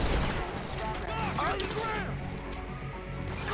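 Rapid bursts of gunfire during a shootout with police in the video game GTA V, loud and dense, mixed with mechanical clatter and crashes under continuous game noise.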